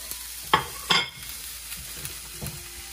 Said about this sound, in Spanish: ahora vamos a hacer una cebolla caramelizada